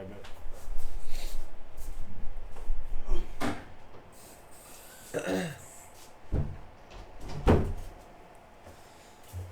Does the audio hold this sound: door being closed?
yes